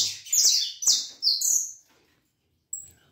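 Canaries kept as singing birds sing loudly and up close in several bright, rapid trilling phrases with short pauses between them.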